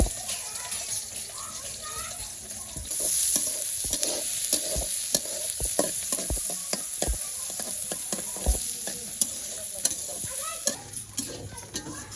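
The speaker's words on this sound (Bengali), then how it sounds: "পেঁয়াজগুলো ভেজে নিব" Oil sizzles steadily as onions fry in a pan, with frequent scraping and stirring clatter from a utensil close by.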